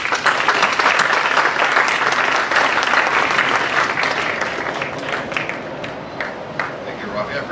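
A crowd at a reopening ceremony for Camp Snoopy at Knott's Berry Farm in Buena Park applauds, dense, loud, sustained clapping that fades slightly toward the end.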